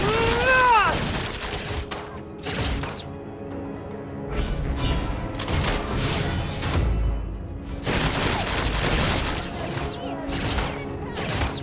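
Bursts of gunfire from Marco Polo's guns in the mobile game Honor of Kings, rapid volleys in several clusters separated by short gaps, punchy and close, mixed with game effects and brief voice lines.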